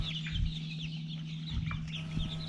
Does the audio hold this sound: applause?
no